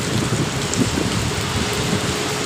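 Steady rain in Dubai pours down in a dense, even hiss, close and loud, with scattered drops pattering on hard surfaces throughout.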